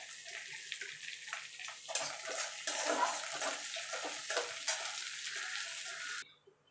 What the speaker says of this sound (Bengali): দেখুন বন্ধু, মুগ ডালটা ভাজা হয়ে গেছে।